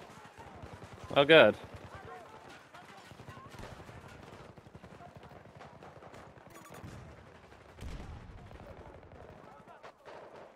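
Battlefield 2042 gunfire, a loud burst of shots near the start followed by quieter, scattered distant firing, mostly beneath a player talking throughout.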